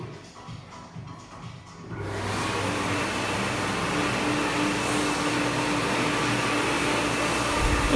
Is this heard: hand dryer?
yes